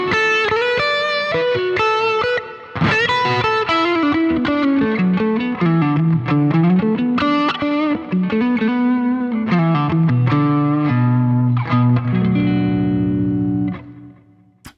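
Electric guitar played through an overdrive pedal with the drive knob turned fully down for a clean boost tone, sounding alone as a continuous run of picked notes and chords with a sustained final chord that fades out.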